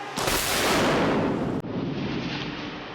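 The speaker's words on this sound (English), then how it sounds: "When you blow up a big model, there's nothing better than that." A big film miniature blown up for a practical explosion effect on the set of Independence Day (1996), a sudden loud blast roaring and rumbling for over a second, then a cut to a lower continuing rumble.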